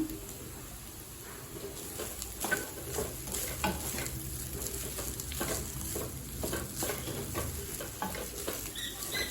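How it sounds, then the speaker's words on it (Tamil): Chana rice is stirred and mixed in a pan, with soft scraping strokes and a faint sizzle repeating irregularly at low volume, close by and without speech. "எல்லாத்தையும் நல்லா மிக்ஸ் பண்ணியாச்சு."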